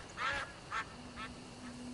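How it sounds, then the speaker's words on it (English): Ducks quack at a koi pond in the video game Crimson Desert, three or four nasal quacks spaced apart and moderately close, fading in loudness over a quiet background. "Some ducks in there."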